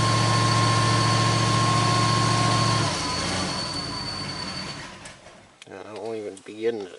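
A 1981 Mercury Marquis engine idling after a -26 °C cold start, a loud steady drone with a high thin belt squeal that fades out after about three seconds, then quieter running as someone talks near the end.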